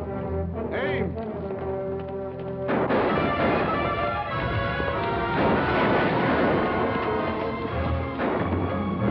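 Rifle volley from a firing squad in a classic western TV episode, a sharp blast followed by a sustained rumbling roar and ringing tail, loud and dense with no speech over it.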